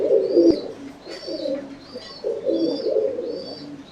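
A single-crested pigeon coos in repeated rolling phrases, close and clear, with a sharp click near the start and other birds chirping faintly behind.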